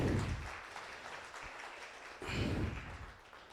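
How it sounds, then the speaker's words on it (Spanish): A church congregation claps during a sermon on the Resurrection of Jesus, producing a soft, distant wash of applause that swells briefly again toward the end. "Denle un aplauso al Señor."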